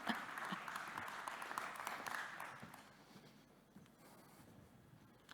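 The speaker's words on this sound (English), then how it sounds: "Give him a round of applause." A conference audience claps for a speaker taking the podium at a talk on chatbots in hospitality, a faint, dense patter that thins and fades after about three seconds.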